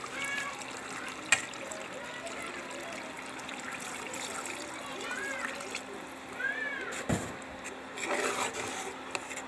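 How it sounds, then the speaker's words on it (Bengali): Water poured into a cooking pot of browned meat and potatoes, a steady trickling splash heard faintly and continuously with some clinks and rustles around it. "এখন দিয়ে দেব পরিমাণ মতো জল।"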